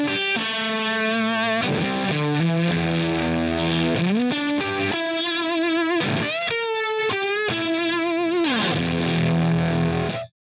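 Electric guitar through a Line 6 Helix Arbitrator fuzz plays sustained, heavily distorted notes and bends with thick, buzzing harmonics, loud and continuous until it cuts off near the end.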